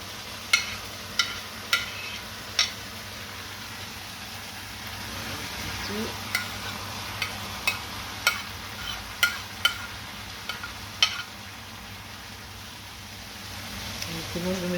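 A spoon stirs peppers with tomato, coriander and chili in a pan for basquaise chicken, giving a dozen sharp scraping clicks in an irregular rhythm over a faint low sizzle.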